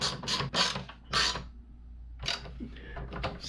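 Small nylock nuts are screwed and snugged onto a Garmin mount, producing a series of close, crisp clicking and ratcheting scrapes in short bursts.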